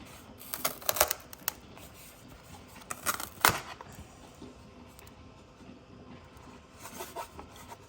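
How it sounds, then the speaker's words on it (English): An ABS 3D print peeled off an old, worn magnetic build surface, giving scattered scraping and rubbing clicks with a few sharper bursts near the start and middle, quiet and close with no talk. "we'll peel it off of this magnetic build surface."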